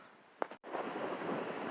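Steady broadband wind noise buffets the microphone outdoors on a trapline, continuous and fairly loud after a brief thump and cutout near the start, with no voices.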